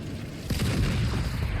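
A cannon fires in Call of Duty Zombies, a sudden deep boom after a quiet moment, followed by a rumbling, crackling tail that keeps ringing to the end.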